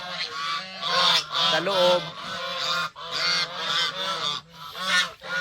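Farm geese, including a nest of new goslings, honk loudly and repeatedly close by in a steady, overlapping chorus of nasal calls with brief pauses, and a voice speaks faintly.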